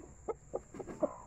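Quiet, scattered clucks from hens on a farm, four or five short calls spaced irregularly over a faint steady background hum.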